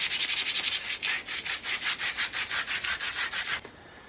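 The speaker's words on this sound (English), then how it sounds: "just to take your sandpaper and just make it nice and circular again" Sandpaper rubbed back and forth over a wooden slingshot handle, a close rasping scrape in a steady rhythm of about a dozen strokes before stopping.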